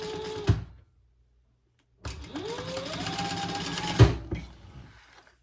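A sewing machine sews down the side seams of a Pachira bag, a short burst, then a longer run whose motor pitch rises as it speeds up, loud and close, ending with a clunk.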